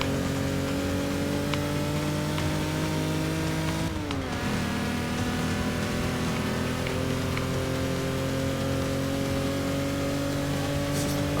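A race car's engine in Forza Motorsport 6 drones steadily at high revs, with a brief dip and pitch shift around a gear change before settling back into a loud, sustained whine throughout.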